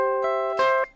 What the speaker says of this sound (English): This is an inversion of a major chord, so it makes this sound.